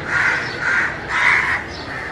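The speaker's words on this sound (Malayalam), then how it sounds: "ഭയങ്കര ശല്യം കാക്ക." Crow cawing in a home kitchen garden, several loud harsh caws in a steady rhythm close by, with no talking.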